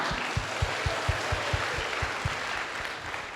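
University students in an audience break into quick, steady applause, a dense patter of many hands that holds evenly for a few seconds.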